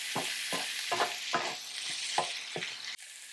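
Zucchini and capsicum stir-fried in a hot pan for a gochujang noodle dish: a steady sizzle with repeated scraping stirs roughly every half second, close and fairly loud, then an abrupt drop near the end.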